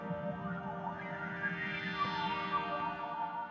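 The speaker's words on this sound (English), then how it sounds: "the chorus is obviously nice to create more width" A sustained Roland JV-1080 synthesizer tone with a shimmering, wide chorus effect, slowly wavering in pitch, playing alone at moderate volume.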